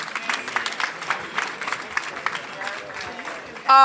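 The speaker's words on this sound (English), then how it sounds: "Clap for Reverend Jackson." Scattered clapping rises from a conference business breakfast crowd honoring a reverend, moderately loud with distinct individual claps mixed with murmuring voices, then a sudden louder burst at the very end.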